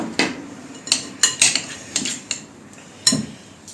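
Metal spoon scraping and clinking against a bowl while working chocolate buttercream, about seven separate sharp strikes and scrapes spread out at an irregular pace, close by with no talk.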